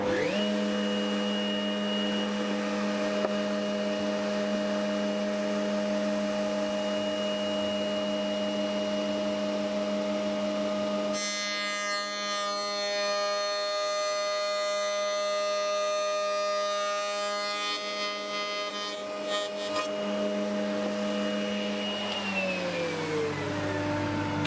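A workshop vacuum drones steadily while tenons are cut, its motor hum continuous, joined midway by a higher machine whine that rises and fades before the vacuum tone winds down.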